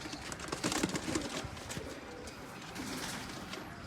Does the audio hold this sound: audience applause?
no